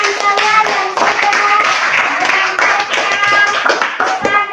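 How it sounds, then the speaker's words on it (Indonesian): Classroom audience of students clapping hands for a classmate, dense steady applause lasting several seconds with voices mixed in. "Berikan tepuk tangan buat teman kalian"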